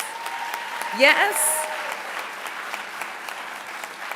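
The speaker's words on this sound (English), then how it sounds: "Give them a big round of applause." Crowd applause for the performers at a 2023 MLK tribute, a steady wash of clapping throughout, with a single short voice breaking in near the start.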